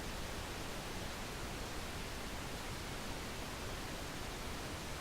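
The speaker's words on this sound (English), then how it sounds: "this is pink noise." Steady, hissing broadband pink noise test signal that sounds balanced and smooth, unchanging throughout and loud, with nothing else present.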